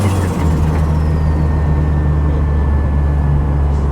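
A classic 1980s Ford fitted with a Mazda turbo rotary engine drones loudly from inside the cabin as it oversteers, a steady deep engine hum with road roar and a faint rising whine.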